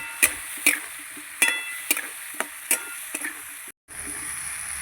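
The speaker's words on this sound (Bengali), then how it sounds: "এবার আমি মশলার সঙ্গে মাটির আলুটাকে ভালো করে কষিয়ে নেব।" Taro being sautéed with spices in a pan, scraped and stirred with sharp intermittent clinks and scrapes over a low background sizzle, several distinct strokes spread across the moment with a brief silent gap near the end.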